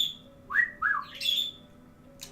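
A pet bird whistles indoors: a run of three bright chirping whistle notes close to the mic, rising and falling in pitch, then a faint chirp at the end over a low room hum.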